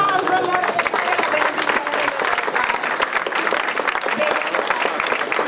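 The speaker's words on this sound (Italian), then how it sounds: "Applauso." Audience applauding at the inauguration of the Colli Euganei consortium headquarters in Vo, continuous dense clapping with some crowd murmur mixed in.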